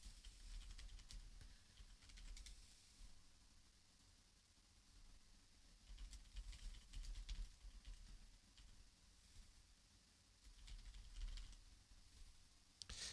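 Faint typing on a computer keyboard, uneven runs of soft key taps coming and going with pauses, quiet and somewhat distant over low background noise.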